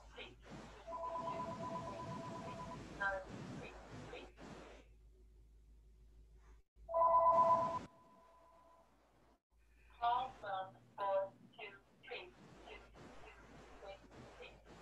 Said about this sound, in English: Whoever has a phone call, would you mind muting your audio?